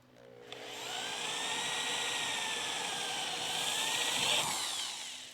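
A power drill bores out spot welds on a car body panel during a Crew Cab Charger restoration, a steady whining grind running nearly the whole time, close and loud, easing off at the end.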